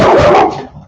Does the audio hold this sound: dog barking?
yes